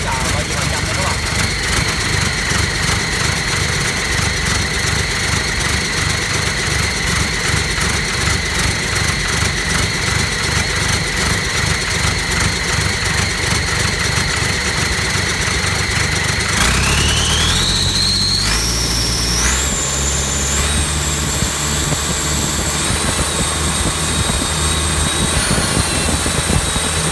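Four-cylinder vehicle engine running on only one cylinder, a steady uneven idle with a rough low pulse and whining tones that climb as revs rise partway through, with someone talking over it.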